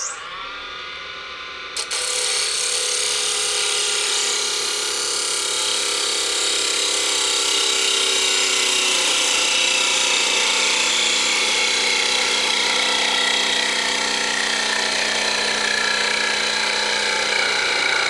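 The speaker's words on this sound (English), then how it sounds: "Now we're going to take that parting tool." A dull parting tool cuts into a wooden goblet spinning on a wood lathe, making a continuous loud scraping, rasping hiss that runs unbroken for over fifteen seconds after a brief quieter start.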